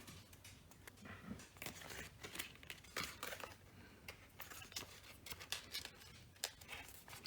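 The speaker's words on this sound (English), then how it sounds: "I'm trying to take the tape apart" Vinyl-cutting transfer tape is peeled and pulled apart in quick, crackling bursts of rustling and snapping, close and fairly quiet, continuing irregularly throughout without speech.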